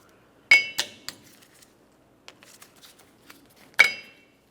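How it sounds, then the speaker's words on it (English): Hard metallic clicks and snips from cutters working a cotter pin out of the axle nut on a 1994-2002 Dodge Ram 2500 front wheel hub, two sharp close snaps at the start, scattered light ticks, then one more loud snap near the end. "We'll use some cutters and remove the cotter pin here."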